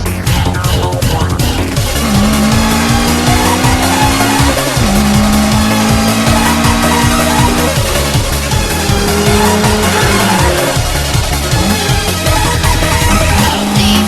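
A 1980s Toyota AE86 Trueno sports coupe with a 1600 cc engine drives hard, its loud engine note rising and falling through gear changes, with tire squeal close by and no talking.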